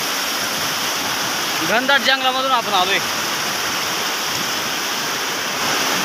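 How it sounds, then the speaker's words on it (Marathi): Steady rushing roar of a waterfall in dense Sahyadri forest on a rainy day, constant and broadband, with someone speaking briefly over it. "एक नंबर असा वॉटरफॉल आहे मित्रांनो."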